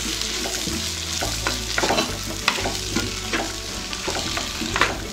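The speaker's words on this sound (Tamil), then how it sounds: "இதை கொஞ்சம் நல்லா கிளறி விட்டுக்கலாம்." Banana flower stew being stirred in a frying pan after softened tomatoes, with a steady sizzle and repeated scraping strokes of the spoon close up, and no talking.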